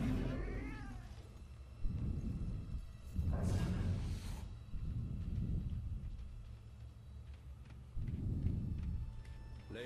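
A cat in Murdered: Soul Suspect meows and yowls several times, loud and close, in drawn-out wavering cries spaced across the stretch over a low rumbling ambience.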